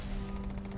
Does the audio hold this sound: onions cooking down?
no